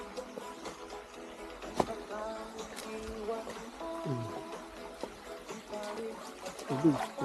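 Creek water trickles and babbles steadily along a shallow stream crossing near a banana grove, with brief voices and footsteps over it.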